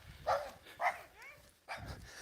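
Several dogs bark in a few short, sharp bursts outdoors, with a high whine between them, moderately close and set against a quiet garden background.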